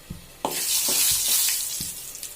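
Turmeric drops into hot oil in a pan for egg biryani; after a couple of soft knocks, a loud, close, bright sizzle bursts up and holds steady, with a few light taps of a utensil.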